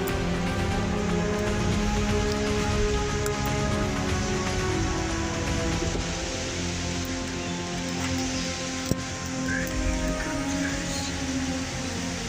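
A waterfall roars in a steady broadband rush of falling water below a brick-strewn spot in Massachusetts, continuous and fairly loud throughout with no letup.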